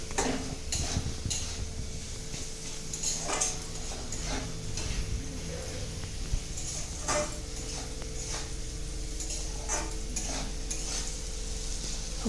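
Chowmein stir-frying in a pan gives a soft, steady sizzle broken by repeated scraping and clinking strokes of a utensil against the metal, close by and fairly quiet, with no voices.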